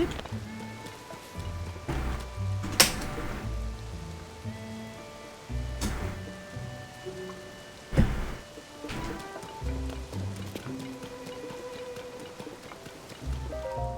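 Rain in the video game Zelda: Tears of the Kingdom, a light, steady patter of raindrops under game music with occasional sharp effect sounds.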